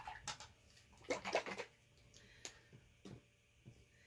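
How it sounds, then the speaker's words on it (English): A paintbrush is rinsed in a small container of water while painting a sunshine plaque: soft, close swishing and dripping in several short bursts, with faint taps between them and no talking. "So let me rinse this off."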